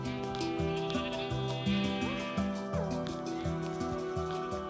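A sheep bleats over a steady looping game melody, the plucked tune running underneath.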